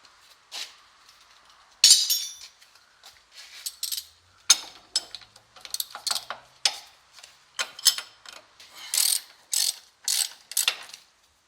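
Repeated metallic clicking and ratcheting as a 19 mm wrench turns a bolt while replacing an Infiniti lower front control arm, in short irregular bursts, close and fairly crisp, with no talking.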